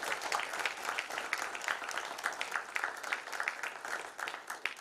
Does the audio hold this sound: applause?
yes